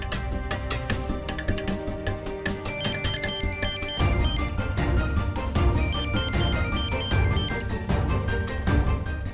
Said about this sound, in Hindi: तुम्हारा फोन इतना टनटना रहा है